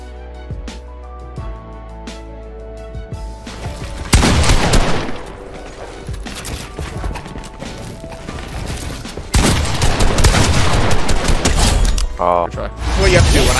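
Rapid gunfire and building-piece impacts fill a Fortnite boxfight, loud and near, with sustained volleys, cracking wall edits and thuds layered over game noise.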